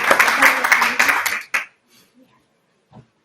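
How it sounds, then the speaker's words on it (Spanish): An audience at a long-COVID conference in Asturias claps in a short burst of applause that stops abruptly after about a second and a half, followed by near silence with a couple of faint thumps. "Así que os pido un aplauso."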